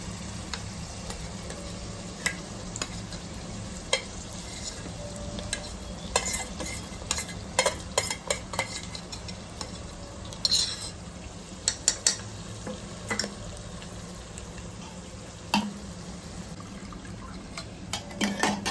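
Chicken masala paste fries in hot oil in a home kitchen, a steady low sizzle punctuated by scattered clinks and scrapes of stirring, close and without talk.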